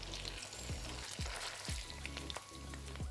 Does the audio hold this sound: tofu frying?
yes